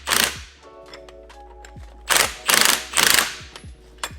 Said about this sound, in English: Use the impact to get them started.